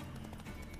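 Roach, a horse in The Witcher 3, gallops in quick clip-clop hoofbeats, close and steady, under a dense bed of game music and ambience.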